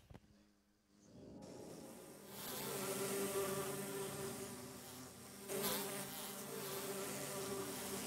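A dense, continuous buzzing of many Minecraft bees swells after a quiet start and holds loud and steady, like a swarm close by.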